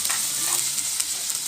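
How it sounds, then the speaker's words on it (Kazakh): Beefsteak frying in hot oil gives a loud, continuous sizzle that holds steady throughout, with no voices over it. "Бірінші майға қуырып түсіп кетті."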